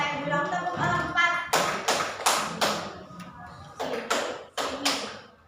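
A class of students in a classroom plays a counting clap game: a voice speaks first, then two groups of four sharp, evenly spaced claps ring out together, separated by a short pause.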